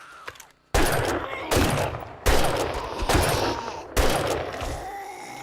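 Rifle shots in the video game 7 Days to Die, four loud, widely spaced blasts, each with a decaying tail, after a quieter opening.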